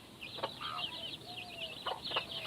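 Domestic hens clucking close by, a few short bursts of throaty clucks and chirpy calls spaced irregularly over quiet background hiss.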